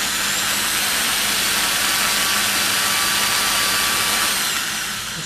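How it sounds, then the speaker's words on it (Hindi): An electric drill machine runs on an AC speed controller, giving a loud, continuous high-pitched motor whine that holds steady throughout, with no talking. "अभी मैं ये ड्रिल मशीन उस पर आपको चला के दिखाऊंगा।"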